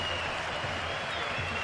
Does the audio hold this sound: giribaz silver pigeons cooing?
no